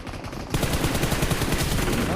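Gunfire in the video game PUBG: a rapid burst of automatic shots starts after a brief moment of quieter sound, then continues as a dense, loud, steady rattle to the end.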